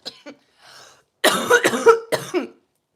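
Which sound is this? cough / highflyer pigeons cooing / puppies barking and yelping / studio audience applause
cough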